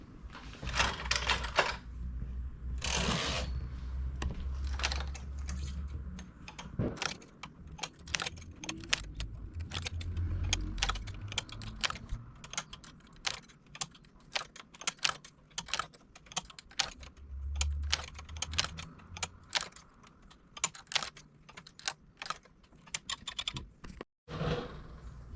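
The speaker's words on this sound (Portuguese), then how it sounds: "passo os pontos para a máquina" Rapid clicking and clattering of a hand-operated knitting machine as stitches are transferred onto its needles while making a knit-and-purl beanie, a dense stream of small sharp clicks with a few louder knocks, close and without talk.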